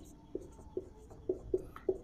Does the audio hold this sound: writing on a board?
yes